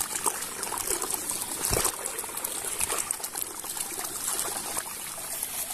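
Water runs steadily through a rice field irrigation channel after a blockage is cleared, a constant close trickling and splashing flow with a brief heavier gush near the start and no talk.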